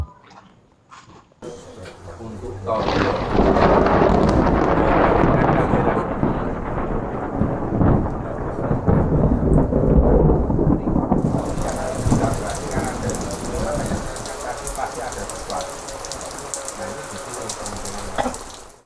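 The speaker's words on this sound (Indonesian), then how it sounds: "Ini hujan, jadi pas begitu selesai langsung turun hujan." Heavy rain falling with thunder, starting with a sudden loud rumbling roar that swells into a sustained downpour, then settling into a steady hiss of rain on surfaces, with faint voices in the background.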